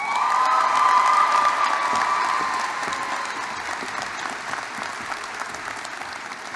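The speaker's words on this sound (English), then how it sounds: "Keep clapping, because at this time, please join me in welcoming Jasenia to the podium" A graduation ceremony audience in a large hall applauds and cheers, a broad wash of clapping with scattered whoops that stays loud and sustained, slowly easing in level over several seconds.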